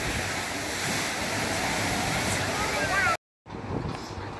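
Sea waves at Digha beach roar as continuous broadband surf, loud and close with wind rumble, cutting out briefly before resuming.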